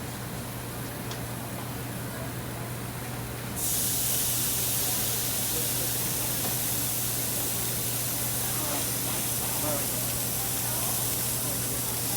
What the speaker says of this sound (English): I'm just going to spray it with nonstick spray.